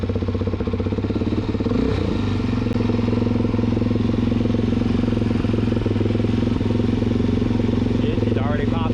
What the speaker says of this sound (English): Push that start button with me, guys.